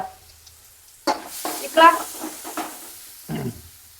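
Onions hitting oil in a pan on a gas stove, giving a sharp sizzle with bursts of stirring and a few scattered clatters, close and moderately loud in a quiet kitchen.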